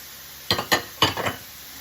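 Diced red pepper and Swiss chard stems being stirred in a pan, with a few quick scraping strokes of a utensil across the pan surface, close and fairly loud.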